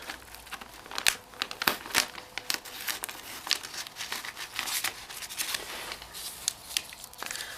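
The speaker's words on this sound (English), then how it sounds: "Sharp scissors, usually a good idea." Crinkly plastic rustles and snips in close, quick irregular bursts as sharp scissors cut through a plastic grow bag in a greenhouse.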